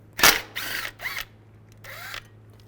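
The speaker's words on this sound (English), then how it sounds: "Now I'm going to use a 6mm hex socket." A 6mm hex socket turning and ratcheting out a bolt on a 1998-2010 Volkswagen Beetle serpentine belt tensioner: a sharp click followed by three short metallic ratcheting bursts, close and distinct over a faint low hum.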